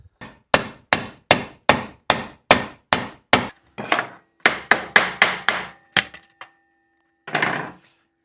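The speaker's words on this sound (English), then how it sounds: "we got to rivet these back on" Rivets are hammered back onto a metal griddle with about fifteen sharp, ringing strikes. They come in a steady rhythm, then faster bursts, and end in a last scraping clank after a short pause.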